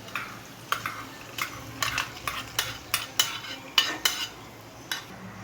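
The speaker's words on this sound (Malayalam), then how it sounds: "ഇനി ഇതെല്ലാം നന്നായി ഇളക്കി ചേർക്കും." Fried raisins stirred through aval payasam, a spoon scraping the pot in about a dozen distinct strokes, close and fairly soft, with no talk.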